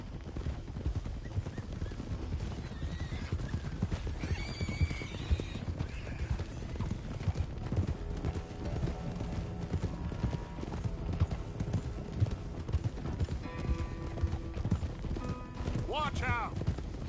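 Steady clip-clop of hooves with a horse whinnying near the end, set against ambient music and background game sounds in Red Dead Redemption 2.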